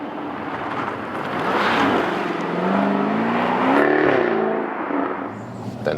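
A 2020 Jaguar F-Type P450 V8 convertible in Dynamic mode drives uphill, its engine note loud and close, swelling and climbing in pitch as it pulls, with no talking.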